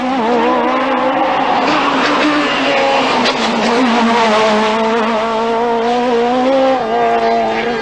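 A rally car drives hard on a special stage of the 1996 Ronde Cévenole, its engine loud and close from inside the cockpit, pitch rising and dropping through gear changes, with no talking over it.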